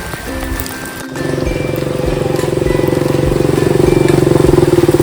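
A motorcycle idles and draws up on a rainy day outside a college, its engine putter starting low and then growing steadier and louder as it comes close, with no talking over it.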